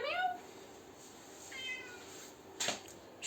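A pet cat meows indoors, two short, fairly soft calls about a second apart, with faint room noise and a brief clatter near the end.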